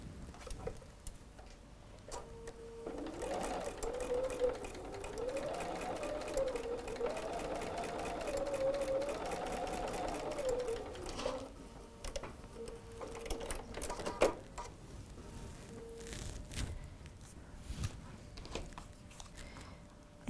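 A sewing machine runs a straight line of stitching on quilting fabric, its whirring motor humming steadily for about eight seconds, close and fairly loud, with quiet handling noises afterward.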